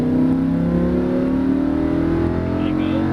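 Lamborghini Huracan on a racetrack accelerating hard, a loud steady engine roar with rising harmonic tones throughout, close and continuous, with a voice faintly heard in the background.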